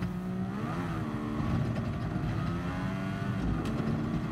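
Race car engine of the F1500T-A in Gran Turismo Sport at Interlagos, a steady loud drone with shifting harmonic pitch as it accelerates, heard alone without talk.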